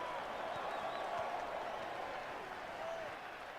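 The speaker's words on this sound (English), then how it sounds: "Are they cheering me on to finish the beast?" In the Witcher 3 game, a crowd cheers and claps in a continuous, faint wash of applause that fades slightly toward the end, with speech underneath.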